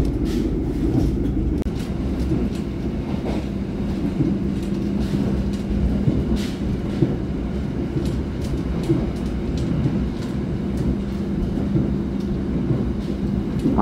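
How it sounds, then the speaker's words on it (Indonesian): The Mutiara Selatan passenger train runs straight through Geneng station without stopping, giving a continuous loud rumble and rolling wheel noise across the whole stretch, with faint clicks on top and no voices. "Kereta api Mutiara Selatan melintas langsung stasiun Geneng."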